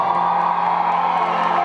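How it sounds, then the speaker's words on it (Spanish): A television studio audience claps and cheers for Sebastián, a dense, steady wash of applause and whoops held at constant loudness throughout. "Fuerte aplauso para Sebastián,"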